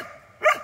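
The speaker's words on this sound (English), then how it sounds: "And I wish the dog would stop barking." A dog gives a single short bark near a car that has a reversing sensor fault caused by a bike rack. The bark is moderately loud and comes after a brief quiet moment.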